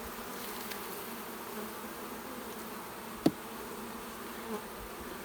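Honeybees hum in a low, steady, faint drone during a hive removal from a chimney, with a single sharp knock partway through.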